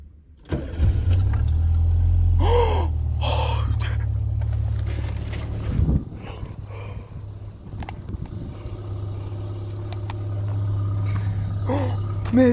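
A car engine cranks, catches and keeps running with a steady low idle hum and a few small revs, close by, while someone talks briefly over it.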